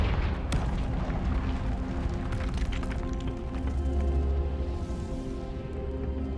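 Confringo fire spells in the game Hogwarts Legacy burst in loud, booming blasts, several heavy explosive hits early on followed by rumbling, crackling aftermath and lingering low roar.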